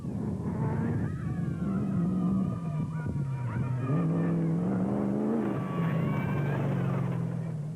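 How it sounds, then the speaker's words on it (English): A South African Nissan Hardbody rally truck races through mountain terrain during the 2005 Lesotho Sun 400, its engine droning and revving up and down in pitch, loud and continuous throughout. "Janelle de Villiers and Francois Jordan in the third proudly South African Nissan hardbody on their way to a well-earned second overall."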